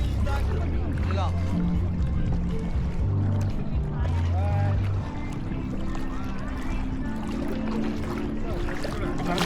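A boat engine hums steadily underneath with water sloshing around off Boracay, and people chat over the constant motor drone.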